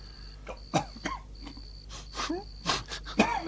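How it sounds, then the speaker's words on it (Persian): A man coughs repeatedly in rough, strained bursts, with wheezy breaths and throat sounds between them over a faint steady hum. "خودت پدرمو نگاه کن، داره سرفه میکنه"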